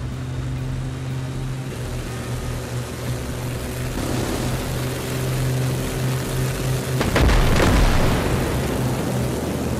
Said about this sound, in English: That the plane used its cannon on that Russian infantry.